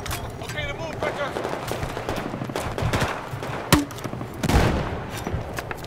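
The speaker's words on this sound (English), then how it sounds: "Shots fired." Rapid gunfire from a Battlefield 4 match, bursts of automatic shots crackling densely across the whole stretch with a couple of sharper, louder cracks, while a player's voice talks over the action.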